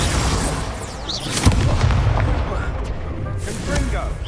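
Fire spell cast in the Hogwarts Legacy video game during a duel, a burst of booming, crackling magical impact sounds in a steady noisy battle mix, with a brief louder hit partway through.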